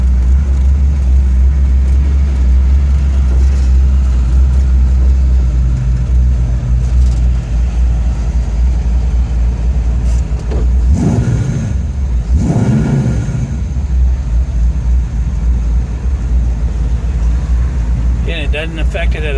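Ford F100 V8 fitted with an Edelbrock 1405 carburetor, still partly on choke, running loud and close at a steady idle with a couple of brief revs midway.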